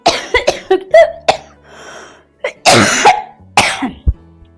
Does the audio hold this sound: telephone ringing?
no